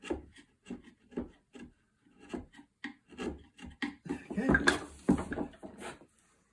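A chisel pares wood from a CZ 550 F Class rifle stock in a series of short, close rasping cuts, irregular strokes that grow denser and louder toward the end, with no talk.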